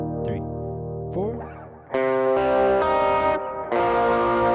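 Electric lead guitar run through effects units with distortion and chorus, playing the third verse of a song; sustained overdriven notes ring out with echoing tails, then thicker chords enter loudly, alone without talk.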